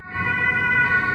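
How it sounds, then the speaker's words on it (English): An emergency siren wails across a street in Germany, a steady tonal blare heard clearly at moderate distance with no talking over it. "I don't know if you can hear the siren going off across the street."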